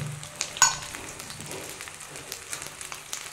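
Chopped eggplant pieces hit a hot pan and sizzle with a soft, steady crackle, quiet and close with a few small pops.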